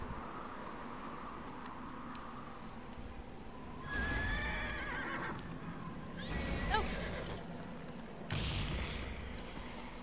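A horse in the video game Neverwinter whinnies a few times over a steady low rumble and soft hoofbeats, with the calls coming in loud bursts.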